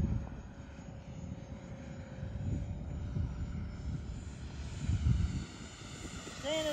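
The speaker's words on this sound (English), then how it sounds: "Staying at about half throttle, Ben." An FMS 64mm EDF F-16 RC model jet flies at about half throttle, giving a steady distant whooshing whine that swells and fades slightly as it passes.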